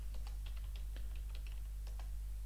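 Quick typing of a GDB command on a computer keyboard, a rapid run of light key clicks over a steady low electrical hum, close and fairly faint.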